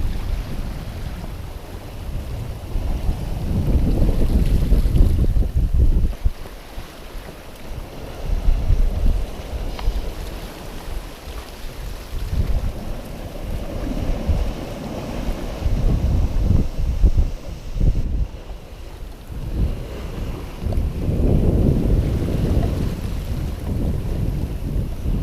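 A singlehanded sailboat under sail at sea in the trade winds. A steady, close roar of wind and rushing water rises and falls in gusts throughout, with no talking.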